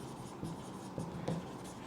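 Chalk or marker writing on a board during a chemistry lesson on ammonia, with a few short scratchy strokes tapping against the surface, fairly close but quiet, with no talk over them.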